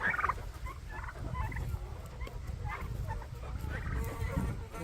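Several young turkeys, white, grey and black, gobble and chirp in bursts close by on a Ukrainian-style homestead in Canada, a lively overlapping chorus over low background noise.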